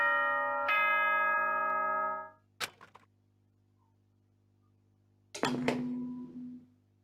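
A two-tone ding-dong announcement chime from the video game Danganronpa rings out clearly. After a pause come a few short clicks, and then a second bright chime sounds with no talking.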